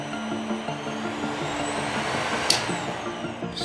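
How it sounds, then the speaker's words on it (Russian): Vacuum cleaner running steadily as the load on a Wi-Fi DIN-rail circuit breaker, a constant motor whine and airflow hiss with a brief sharp click partway through, close and alone. "Пылесос работает."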